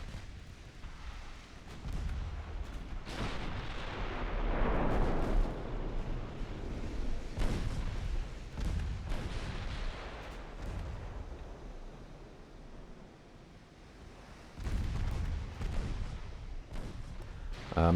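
Naval ship guns fire in the Ultimate Admiral Dreadnoughts video game, a naval battle with destroyers and armored cruisers, as repeated heavy booming salvos and rumbling blasts over a continuous low battle roar.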